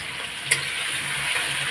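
Potatoes frying in a pan give a steady, close crackling sizzle with a couple of sharper pops and light stirring ticks.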